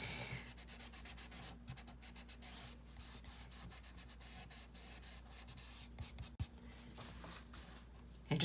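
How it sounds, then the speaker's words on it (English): Chalk pastel is rubbed into paper in soft, continuous scratchy strokes, faint and close, ending with a louder brushing burst. "I'm just going to go in and kind of smush this into the page, rub it in"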